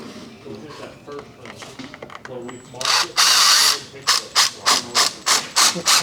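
A power drill drives screws through a replacement window frame into a 2x4 jack stud, giving a run of short, loud, closely repeated whirring bursts after a stretch of quieter talk.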